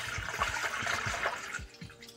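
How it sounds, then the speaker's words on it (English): Water pours steadily into a cooking pot at home, a close, continuous splashing and gurgling stream that trails off near the end with a few drips. "We going to pour our water"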